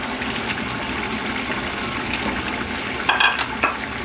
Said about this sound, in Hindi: अब मैं टमाटर डालने लगी हूँ।